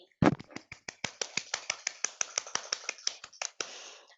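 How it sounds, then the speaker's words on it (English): Applause at a memorandum signing ceremony comes as a quiet, sparse series of individual sharp claps in a fairly quick, slightly uneven rhythm, with a softer patter of hands near the end. "let's give a big round of applause to congratulate on the new thriving ICDM and VIOD"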